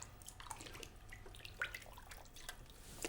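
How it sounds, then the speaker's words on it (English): A tap runs steadily over a heart being rinsed in a sink, with a thin stream of water splashing and dripping against the meat and basin, fairly faint and close. "Quick rinse should get rid of any last little spots of blood inside the heart."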